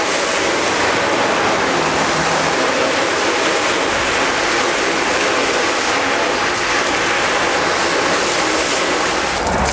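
Steady spray of water rinsing soapy residue off a car, a loud, continuous close-up hiss and splash with no pauses.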